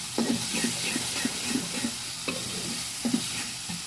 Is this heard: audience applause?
no